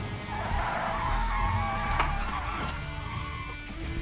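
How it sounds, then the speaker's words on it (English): A car in a driving video game skids after the handbrake is yanked, with a sustained tire squeal over engine noise lasting several seconds, fairly loud and continuous with no talking. "What happens if we yank the handbrake?"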